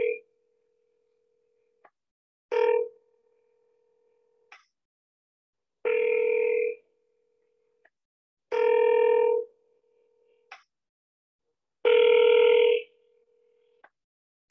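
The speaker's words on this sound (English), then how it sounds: "So let's dial him now." An outgoing telephone call ringing through a handset speaker, with a ringback tone that comes in several spaced bursts of ringing against a faint steady tone between, close and clear.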